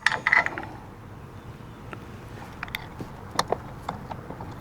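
A socket wrench ratchet clicks in short bursts while tightening a 13mm bolt on an LED light pod mounting bracket, close and fairly quiet with a few sharper clicks at the start.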